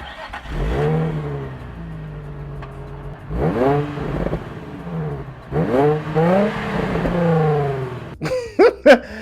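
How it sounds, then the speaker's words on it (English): An Infiniti G35 engine revs up and down in several rising and falling sweeps as the exhaust opens up, loud and close, ending with a few sharp crackling bursts. "if you've ever heard a G35 open up, just the way that the pipes open up"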